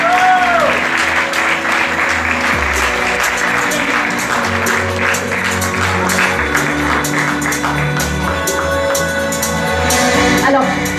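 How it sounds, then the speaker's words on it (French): Audience applause fills a casino hall during a 20th-anniversary ceremony in Salies-de-Béarn, steady and loud throughout with music playing underneath and faint voices mixed in. "Sous vos applaudissements, s'il vous plaît"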